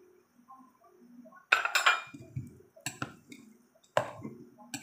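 Carrots, cabbage and other dumpling filling ingredients being mixed in a bowl in a home kitchen, giving irregular clinks, scrapes and soft thuds of utensil against bowl, close and moderately loud, with quieter stirring between bursts.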